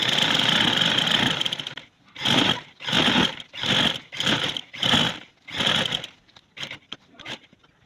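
A sewing machine sews a trouser seam, first in a long steady run, then in six short, evenly spaced bursts, each lasting about half a second, close and clear.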